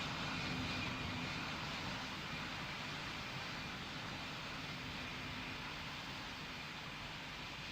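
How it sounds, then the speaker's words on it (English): In the Pilot Training Flight Simulator game, an airliner's jet engines roar in a dense, steady broadband rush during takeoff, loud and constant throughout with no voices. "Swiss 90981 Heavy, you're cleared for takeoff on runway 13"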